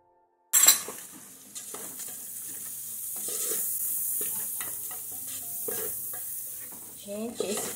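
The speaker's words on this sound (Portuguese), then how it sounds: "Agora eu venho acrescentando a cebola." Onion and dried herbs hit a pan of browned garlic with a sharp initial sizzle, then a steady frying hiss broken by spoon stirring and scraping against the pot, close and fairly loud, with no talk.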